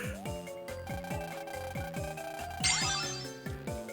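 A phone ringtone from Mega Man Star Force 3 plays as a bright, repeating electronic jingle over in-game music, with a rising chirp near the end; loud and continuous, no talking.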